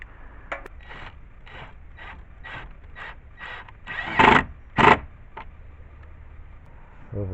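Screw being driven into a wooden shed: a run of short, evenly spaced mechanical whirring bursts, then two louder, longer grinding pulses close by, with no talking.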